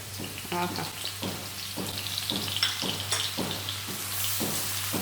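Crushed spices fry in hot ghee with a close, continuous crackling sizzle, broken by regular rhythmic stirring scrapes over a low steady hum.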